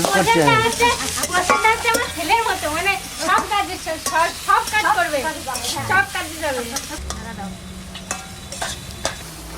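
Katla fish curry gravy bubbles and sizzles in a pan while a spoon scrapes and stirs it in repeated strokes, loud and close, with a voice talking over much of it.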